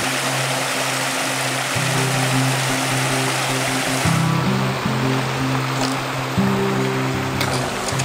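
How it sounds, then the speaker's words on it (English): A waterfall along the Prairie Creek Trail in the redwoods gives off a steady, close rushing roar, with low droning tones running through it and no clear voices. "Here's a waterfall."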